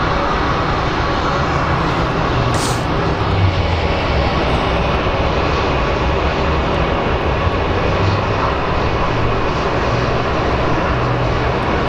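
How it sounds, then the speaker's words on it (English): Delta airliner on its landing roll at Phoenix Sky Harbor International Airport, a loud steady engine roar filling the whole stretch with no pauses or voices. "we have our Delta flight that just landed"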